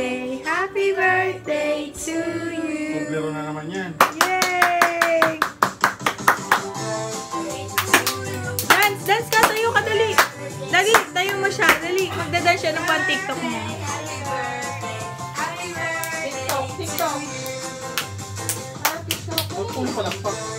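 At a family birthday party for a father, people clap in quick, uneven bursts over music, with voices chattering and cheering throughout.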